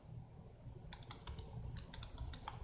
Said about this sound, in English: He's typing on it.